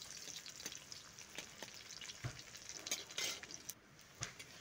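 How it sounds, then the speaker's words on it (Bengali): Finely chopped onion frying in mustard oil in a kadai, a soft continuous sizzle with occasional light clicks and stirring knocks, close by and fairly quiet. "পেঁয়াজটাকে দিয়ে একটু লাল করে আমি ভেজে নেব"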